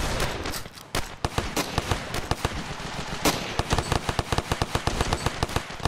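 Rapid gunshots in the video game Ravenfield crack out loud and close, bursts of automatic fire mixed with single sharp reports in an uneven, almost continuous rhythm, with no talking.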